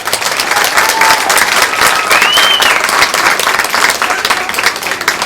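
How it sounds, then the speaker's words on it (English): Audience applause for children at a 4-H livestock showmanship event, a steady, dense wash of clapping from a crowd that holds at full strength for the whole stretch, with a faint voice briefly audible underneath. "Let's give these kids a round of applause."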